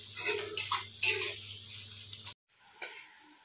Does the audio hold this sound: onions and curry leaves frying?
yes